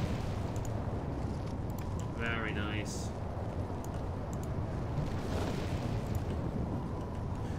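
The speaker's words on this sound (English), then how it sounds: "just an explosion of blood and viscera and fire" Loud video game explosion bursting with blood, viscera and fire, a dense continuous rumble with crackling bursts filling the whole stretch while a voice talks over it.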